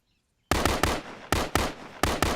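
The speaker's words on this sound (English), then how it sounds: "now you can just demonstrate how to suppress with a rifle" Rifle fired rapidly to suppress during counter-ambush training outdoors: seven loud, sharp shots in quick uneven pairs and singles over about two seconds, following a brief quiet lead-in.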